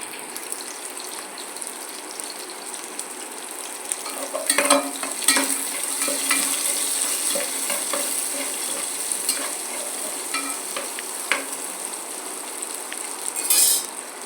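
Onion and tomato sautéing in a pan for home-style chicken kuzhambu, a steady close sizzle broken by scraping stirs and light clinks of a spoon against the pan, no talk.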